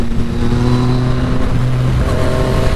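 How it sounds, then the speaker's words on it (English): A Yamaha FZ-09 motorcycle is ridden hard through a canyon, its engine holding a steady, loud drone with shifting pitch as revs rise and settle, close and continuous without pause. "the harder you ride it, the better this bike feels"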